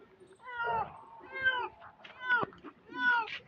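Four drawn-out cat meows, close and fairly loud, each rising then falling, with short pauses between them.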